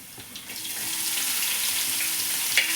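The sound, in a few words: onion frying in pan with ginger and green chilli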